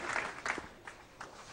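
Brief applause from spectators at a PBA professional bowling tournament, a modest scatter of clapping rising in a few soft bursts over a second and a half.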